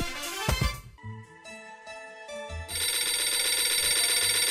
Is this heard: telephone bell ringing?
yes